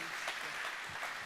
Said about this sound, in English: So if you guys will give a round of applause to these very special people.